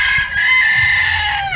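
A red junglefowl rooster crows once, loud and close, a strained, raspy call held for over a second before cutting off sharply, with faint background noise.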